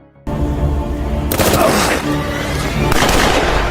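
Gunfire erupts in a film action scene, with a burst of loud, close shots and heavy booms layered over a dramatic music score.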